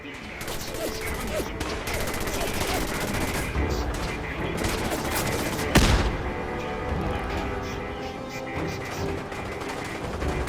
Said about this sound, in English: Cannons are ready. Fire at will.